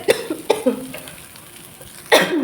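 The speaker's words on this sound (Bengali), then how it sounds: "এই যে ধোয়াটা উঠছে তা কাশি হচ্ছে" Smoke from onion and chili frying in oil sets off coughing: a couple of close, sharp coughs, a pause, then another harsher cough burst.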